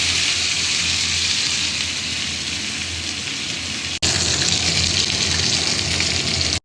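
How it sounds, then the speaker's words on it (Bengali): Fish frying in a pan sizzles with a steady, loud hiss that briefly cuts out partway and then resumes just as strongly, with no voices. "আমি তোমার জন্য একটা ফিশ ফ্রাই করছি"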